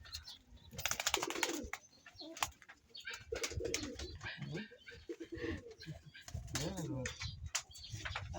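Racing pigeons coo in low, throaty bursts close by, with some wing flutters, while a person talks intermittently over them.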